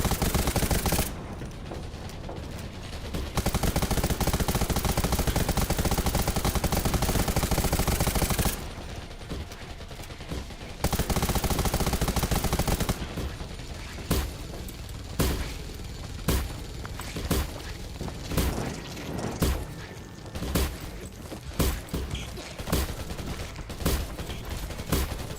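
Many players shoot guns at once in the Undawn video game, a dense, near-continuous barrage of overlapping gunfire. Long roaring stretches give way to rapid, distinct cracks that keep going.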